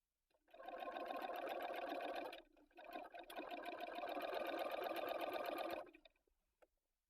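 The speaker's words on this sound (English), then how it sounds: "it's not going to take much longer to sew it by machine" A sewing machine runs in two long bursts, stitching a separating zipper into a jacket. A short pause falls between the runs, and the machine whirs loud and close with no voices.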